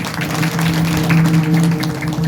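An audience at a kirtan claps for the children, a dense, continuous patter of applause over a steady sustained tone, held loud throughout.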